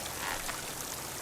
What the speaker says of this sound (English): Water's coming from that vent.